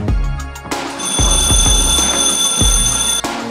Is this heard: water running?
no